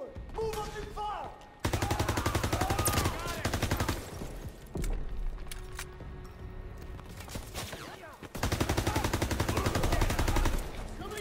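Heavy wartime gunfire in the video game Call of Duty WW2 during a D-Day beach assault, with dense rapid machine-gun bursts and scattered shots running nearly throughout, broken by short pauses, with shouted voices mixed in.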